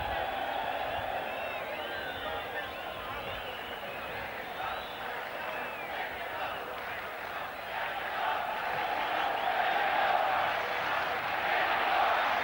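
A football stadium crowd at a 1986 World Cup match between Poland and Morocco chants in a sustained, distant roar that swells toward the end, with a commentator talking over it.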